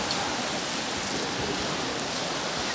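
Water rushes steadily over Kodiveri waterfall, a dense, even hiss with no breaks that holds at one level throughout, with no voices.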